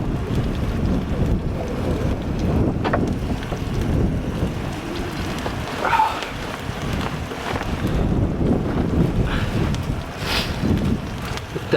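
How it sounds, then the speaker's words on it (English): Wind gusts and buffets a microphone at a freezing 11°F winter camp on Pikes Peak, Colorado, a rough, rumbling roar that rises and falls with a few faint knocks and rustles. "Wind's starting to come up and I am freezing my ass off."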